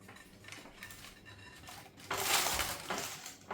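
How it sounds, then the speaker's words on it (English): Tiffin mixture of cherries, raisins and biscuits scraped from a bowl into a baking tray, with soft clinks and a louder burst of scraping and tapping near the end, close and quiet, without talk. "Now that my cherries, raisins and biscuits are all mixed together with my bain-marie, I empty it into my baking tray."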